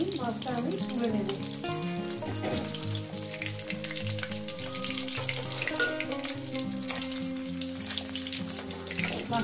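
Pieces of catla fish fry in hot oil, giving a dense, continuous sizzle under background music.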